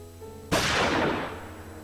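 A single loud pistol gunshot in a horror audio drama cracks out sharply after a quiet low hum, then its echo decays over about a second through an empty building.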